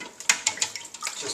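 Cold water running from a kitchen tap over boiled eggs, a steady splashing flow broken by a few sharper drips and surges, close by and alone.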